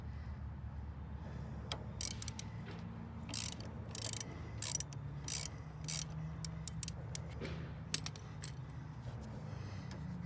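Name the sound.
T30 Torx tool loosening a bolt on a BMW R 18 motorcycle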